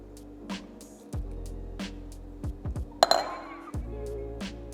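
Glasses clink once in a toast over iced coffee and lemonade mocktails, a short bright ping surrounded by soft taps and handling noises in a quiet room.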